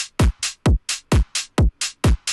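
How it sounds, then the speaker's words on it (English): Punchy bass house drum loop with a heavy kick and sharp clap alternating on a steady beat, bright hi-hats filling the gaps, saturated and thick through a drum bus, loud and dry with no voices. "So together the kick, clap, and hat sound like this so far."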